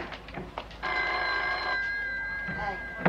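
A telephone bell rings for about a second as a sustained, bright trilling tone, with voices talking just before and after the ring.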